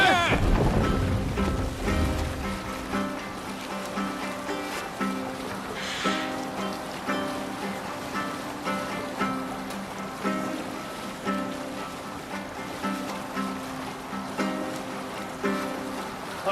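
Viking longship under sail at sea in Assassin's Creed Valhalla, an opening whoosh of wind and splashing water giving way to a steady sea and wind wash under a soft musical background.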